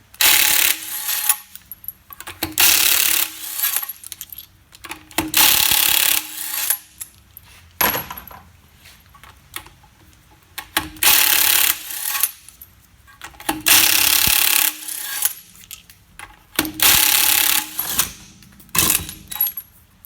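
Car wheel nuts on a disc-brake car being loosened with a 21mm socket and ratchet: loud, close bursts of metallic ratcheting, repeated in several runs with short pauses.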